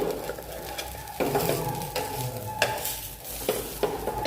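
An amboli, a poha and rava pancake, cooks on a pan with a steady frying hiss, broken by a few scraping stirs and light knocks as it is turned over; no one speaks.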